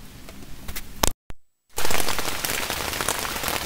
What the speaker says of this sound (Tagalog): currently sobrang lakas ng ulan na ngayon at nandito ako sa tent